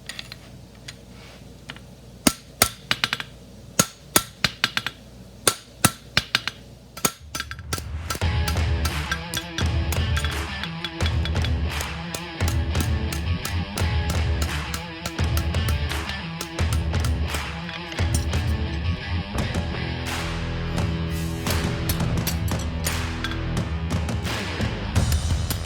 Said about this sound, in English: All right, it's hammer finished, so you want to make sure your heels are done good.